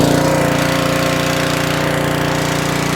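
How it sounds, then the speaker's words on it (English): A gas pressure washer engine runs at a steady, loud, rapid chugging idle, close up and unbroken, with no talk over it. "let's go ahead and fire this thing up, see if it starts and see if we have good pressure in our hose"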